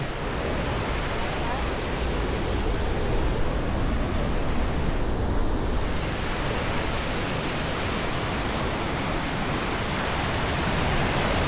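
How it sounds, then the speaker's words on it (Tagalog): Ocean surf rolls onto Pasicon Beach on the north side of Siargao as a continuous, loud, washing roar with no break, close by and steady throughout. "Ang ganda ng alon."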